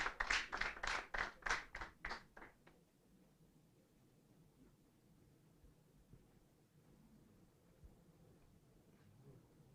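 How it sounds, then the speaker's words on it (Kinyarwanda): Audience applause at a national exam results ceremony, a burst of clapping for about two and a half seconds that fades into quiet room tone. "Nabo tumukomera amashyi tubakomera amashyi."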